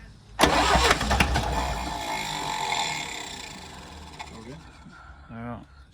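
The diesel engine of a John Deere 2010 tractor cranks and catches with a sudden loud burst, runs roughly for a few seconds, then fades to a sputter. A voice speaks near the end.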